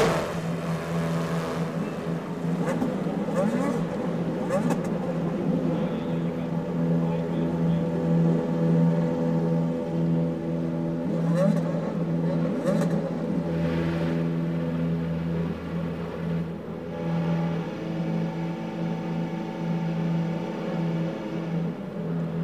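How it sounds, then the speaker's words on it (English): Champ Car World Series race cars at the Milwaukee Mile oval, engines running together as a steady, dense low rumble and whir from the whole field, sustained throughout with slight swells, like a grid idling before a 250-mile night race. "Gentlemen, start your engines."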